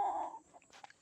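Hens cluck briefly outdoors on a hot, sunny farmyard, a short low call followed by a couple of faint softer clucks.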